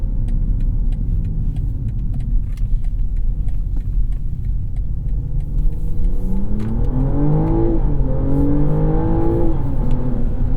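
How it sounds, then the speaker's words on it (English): Smooth inline-six engine hum from inside a 2025 BMW M340i in comfort mode, with some piped-in engine noise, building as it accelerates, with rising and falling revs partway through, moderate and steady. "in comfort mode, where you're going to be doing most of your driving, there's still some piped in noise"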